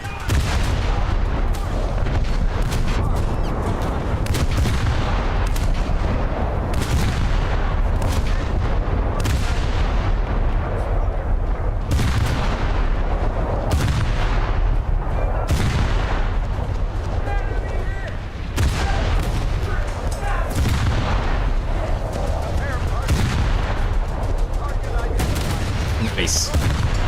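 Naval battle in War Thunder-style realistic water combat: repeated heavy ship gun blasts and booming impacts across the whole stretch, dense and loud, with a voice speaking over the explosions.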